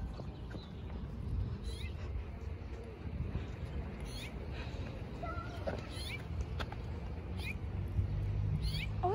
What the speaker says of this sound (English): Oh, it's a ginger kitty.